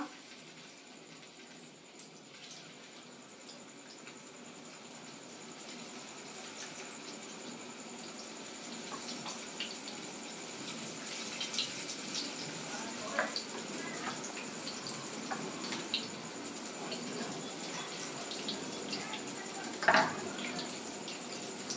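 Arrowroot and egg batter frying in hot oil in a wok, a soft, steady sizzle that swells gradually, with occasional clinks and low talk in the background.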